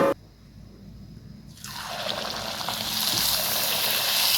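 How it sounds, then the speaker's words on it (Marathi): Puris deep-fry in hot oil until golden: after a brief clatter and quiet moment, a loud bubbling sizzle bursts up and keeps building, close and continuous with no talking. "अशा प्रकारे गोल्डन कलर येईपर्यंत तळून घ्यायचं आहे सर्व पुऱ्या."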